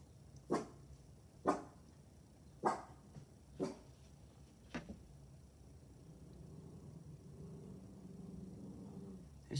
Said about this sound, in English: There's my brave attack dog out there.